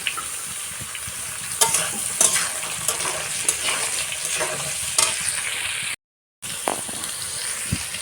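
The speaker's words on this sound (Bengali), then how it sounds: "আর ঝিঙ্গেগুলোকে দিয়ে দেবো আর এখানে নুন হলুদ দিয়ে ঝিঙেগুলোকে ভাজবো" Ridge gourd fries in a pan with garlic, onion, salt and turmeric, heard as a continuous close sizzle broken by clattering stirring strokes of a utensil against the pan.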